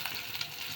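Ingredients for Uttar Karnataka-style jhunka sizzle and fry in a pan, a steady close crackle with faint stirring scrapes.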